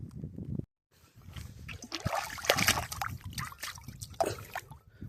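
Water trickles and splashes in a small irrigation channel, uneven gurgles and spatters close by, with a brief silence near the start.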